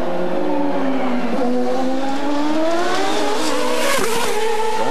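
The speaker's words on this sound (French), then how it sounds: "Oh, la voiture a dérapé. L'arrière a touché." An Indy race car during 2000 Vancouver qualifying loses grip and skids with its rear end sliding out, a loud high engine drone and tire squeal that dips and recovers across five seconds.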